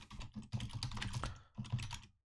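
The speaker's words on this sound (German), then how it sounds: "wenn wir jetzt hier was tippen" Fingers type quickly on a computer keyboard while entering an email signature, giving close, crisp keystrokes in three dense bursts with brief pauses between them.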